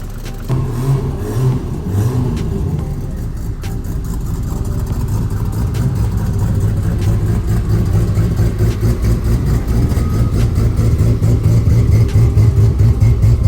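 Toyota Soarer fitted with a swapped T56 transmission, its engine running close by: a loud, low, steady idle with a few revs early on, and no talking.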